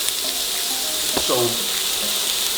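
Steak pieces dropping into a hot pan, bursting into a steady hiss and sizzle that holds throughout, with a brief sharper crackle as the meat lands; no one talks.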